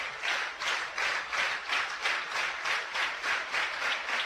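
A softball stadium crowd at a college game claps and cheers as fans rise to their feet, rhythmic rolling applause pulsing several times a second, moderately loud and slightly distant, with no clear voices over it.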